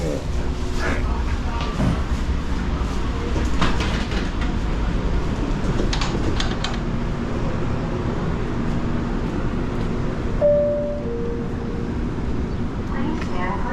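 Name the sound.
light rail train at Charlotte station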